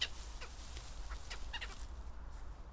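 Faint duck calls, a few scattered quacks, sound at a distance over a steady low background rumble.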